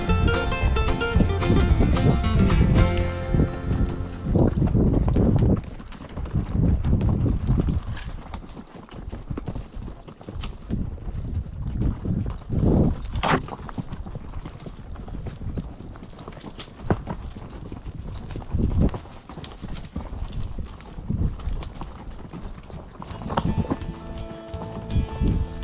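Horse hooves clip-clop in a loose walking rhythm on a ride into Yellowstone, close and fairly loud, with brief louder stretches at the start and end.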